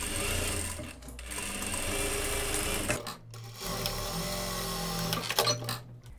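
A sewing machine stitching straight fabric side seams, a fast continuous whirring hum that pauses briefly twice before running on.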